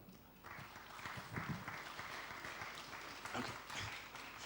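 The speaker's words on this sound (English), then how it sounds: "Round of applause, please, as they come." Applause from an audience at a World Vasectomy Day event in Kenya greets panelists coming on stage, a fairly faint, sustained patter of clapping with some murmuring.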